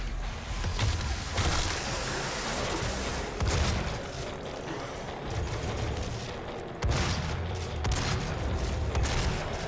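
Continuous heavy gunfire and explosive impacts in the shooter game Doom 3, a dense loud wash of shots and booms with periodic sharper bursts, no talk.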